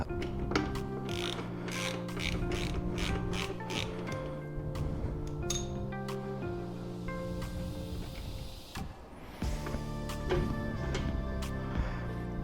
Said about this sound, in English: So I'm going to go ahead and remove the rest of the bolts.